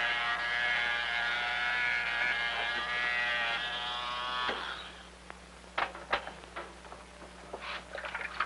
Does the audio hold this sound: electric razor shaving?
yes